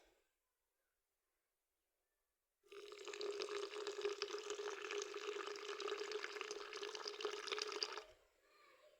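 Water pours steadily for a flaxseed drink, a soft splashing stream that starts after a silent pause, runs for about five seconds, then stops.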